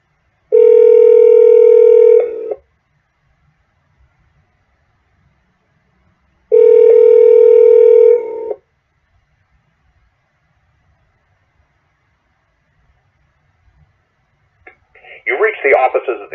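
A telephone dial tone sounds twice in steady two-second bursts with silence between them, followed near the end by a short burst of rapid dialing tones while calling a radio station.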